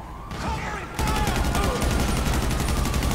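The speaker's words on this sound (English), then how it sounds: "they're shooting me!" Rapid automatic gunfire in the video game GTA 5, a dense crackling fusillade that grows louder and continuous after the first second, with faint game sounds underneath.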